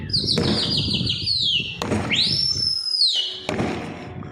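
Flock of Hyderabadi pigeons lifting off together in a burst of wingbeats, with bright whistling tones sweeping across the flight and sharp claps between them, close and loud.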